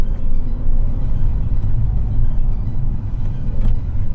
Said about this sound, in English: I'm going to get the car on the ground and we'll take it for a quick spin.